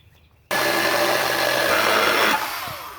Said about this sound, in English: it's always fun to use a chainsaw